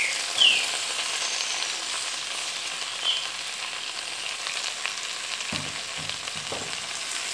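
Steady, soft sizzling of chicory frying in a pan, with a few low clunks of stirring or utensils near the end.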